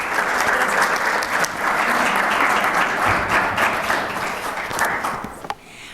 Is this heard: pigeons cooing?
no